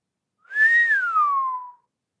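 A single person whistles one clear, sustained note that rises a little and then glides slowly downward, lasting about a second and a half in an otherwise quiet setting.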